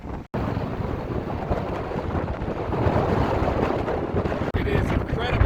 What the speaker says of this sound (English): It is incredibly windy up on top of this dam.